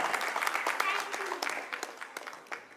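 Applause from an audience after a performance at an Independence Day celebration, a steady patter of clapping under which voices murmur and talk.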